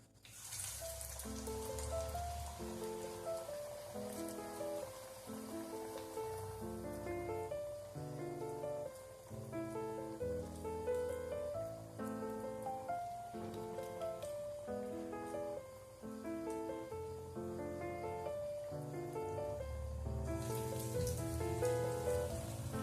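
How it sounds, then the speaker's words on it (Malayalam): Slices of kappa (tapioca) vada sizzle in hot oil with a steady, rain-like crackle that continues under prominent background music. "പരത്തി നമുക്ക് എണ്ണയിലോട്ടിടാം."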